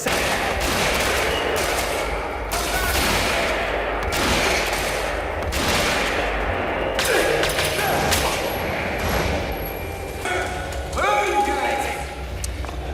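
Gunfire from an enemy firefight in a stealth action video game, heard as repeated bursts of shots at moderate loudness with a narrator talking over much of it.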